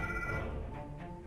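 A telephone ringing indoors, a steady electronic ring tone that fades out partway through, fairly quiet and without talk.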